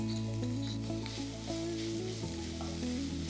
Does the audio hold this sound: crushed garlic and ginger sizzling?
yes